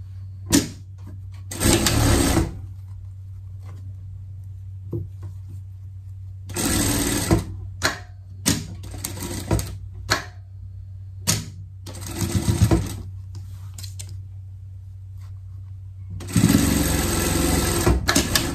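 A sewing machine stitches the side seam of a Nordic coat in several separate runs, each a few seconds long, with a low steady motor hum and quiet gaps of handling between bursts.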